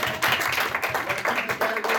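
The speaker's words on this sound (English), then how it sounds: "Give Carissa a round of applause" Players and spectators at an anime convention game show applaud for Carissa, a short burst of dense, lively clapping from a nearby crowd.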